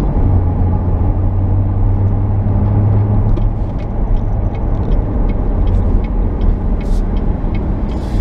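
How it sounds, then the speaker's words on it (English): Interior road noise from a 2017 Corvette Stingray Z51 1LT automatic on the move, a loud continuous low engine and tire rumble with a steady drone, broken only by a few faint clicks and rattles. "Not the quietest car when you're on the road"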